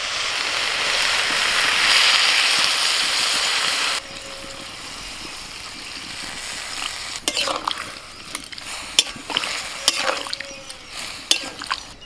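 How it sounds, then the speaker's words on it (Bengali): Greens stirred in a hot pan, a steady close hiss of frying for a few seconds, then quieter scraping with scattered clicks and splashy bursts as water goes in. "শাকটা একটু নাড়াচাড়া করে নিয়ে জল ঢেলে দিচ্ছি।"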